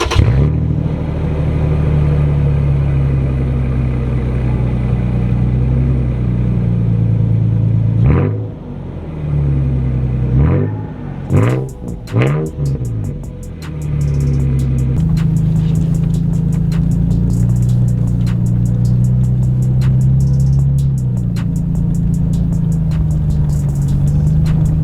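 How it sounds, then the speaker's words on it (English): A second-generation Toyota Tacoma with modified exhaust idles with a deep steady drone, then gets a few sharp revs that flare and fall back before settling into an even rumble. "I'm gonna do a crank up and then just a little rev so you can hear it."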